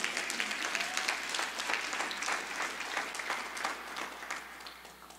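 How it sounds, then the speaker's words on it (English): A church congregation at a Sunday service breaks into sustained applause, many hands clapping in a dense, even roar that fades slightly toward the end, with no voices over it. "Give God a hand clap."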